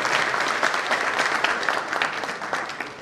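An audience claps steadily and densely for about three seconds at a welcome speech during a conference, no voices standing out.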